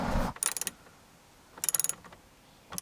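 Ratcheting clicks from a fastener being tightened back onto a metal support ground point during a car dash cam hardwire install, in two short bursts of rapid clicks with a brief clunk before and another click at the end.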